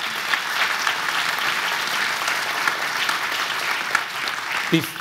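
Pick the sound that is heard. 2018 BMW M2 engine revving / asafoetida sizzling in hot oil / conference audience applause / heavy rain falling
conference audience applause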